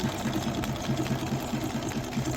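A sewing machine runs a small honeycomb decorative stitch on a quilt block, giving a steady, rapid mechanical whirring and pulsing hum that is close and continuous throughout.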